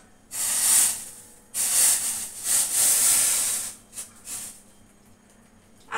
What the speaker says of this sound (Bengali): দিয়ে এবার চাটা ছেঁকে নিই।